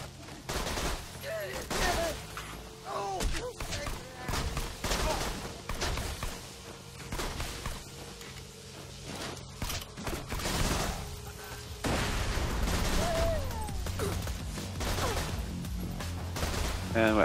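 Gunfire from a powerful weapon in the Borderlands 2 video game rattles in dense, continuous bursts amid game effects and a voice talking over it.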